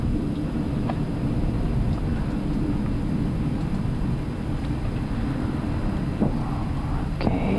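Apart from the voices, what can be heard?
Etihad Airbus A380 jet engines during takeoff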